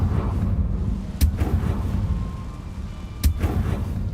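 Two deep, booming blasts from the Confringo spell in Hogwarts Legacy, each a sharp crack followed by a rumbling tail, spaced about two seconds apart over a low game ambience.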